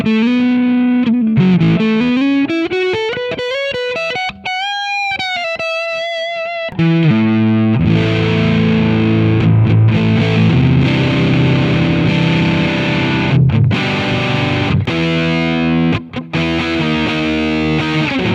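A distorted electric guitar lead tone through an AmpliTube 5 Marshall amp simulation plays loud bending, sliding notes and then sustained chugging riffs with a thick saturated edge, continuous and without talk.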